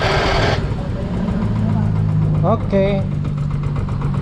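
A Yamaha Mio i 125 scooter engine runs at a steady idle after a TPS adjustment, a continuous close mechanical hum with a brief rev, while someone speaks briefly over it.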